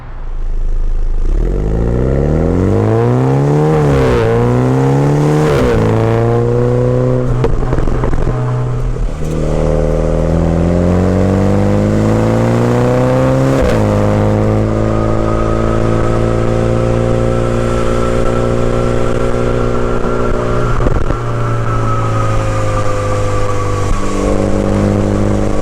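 A 2020 MINI JCW Hardtop with an eight-speed automatic pulls away on a test drive, its engine climbing through rising revs, dipping with gear changes, then settling into a steady, loud drone alone without talk.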